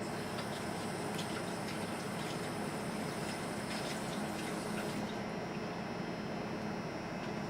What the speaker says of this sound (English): Let me rinse off my hands again.